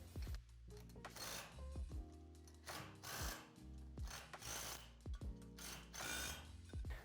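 A hand ratchet tightening a hub nut during a front disc brake conversion on a Honda Foreman ATV, with several bursts of rapid metallic clicking separated by short pauses, close and clear.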